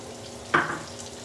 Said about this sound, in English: stir up our bacon. It's starting to get crunchy.